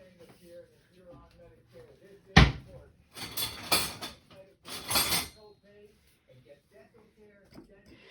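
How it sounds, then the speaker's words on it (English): Whisking baking powder into dry ingredients in a bowl for a raspberry cremeux tart, heard as several bursts of brisk metal-on-bowl scraping and clinking after a sharp knock, with a voice talking quietly between them. "And then we're going to kind of just whisk it together like it says."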